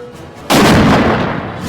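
A large firecracker bomb set off during Diwali celebrations bursts with one sudden loud blast, followed by a dense roaring rumble that carries on to the end with no voices.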